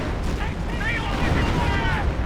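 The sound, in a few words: artillery barrage explosions in Company of Heroes video game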